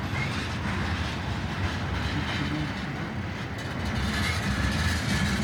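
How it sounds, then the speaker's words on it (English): A long BNSF freight train of tank cars rolls past in Piscataway, New Jersey, with a steady, close rumble of wheels and rattling cars that holds throughout and has no voices over it. "This is a train that I'm seeing here in Piscataway."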